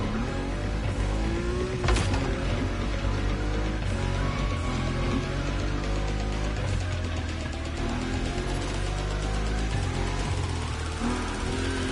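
A Nissan Nismo car engine roars steadily at high speed in a video game, a dense, continuous drone with shifting pitch held throughout and no talk.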